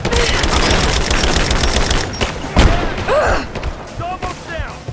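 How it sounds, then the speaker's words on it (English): In Rise of the Tomb Raider, rapid gunfire rattles steadily before a thudding grenade explosion hits at mid-clip, followed by scattered shots, debris and combat chatter, loud and close. "Throwing a grenade!"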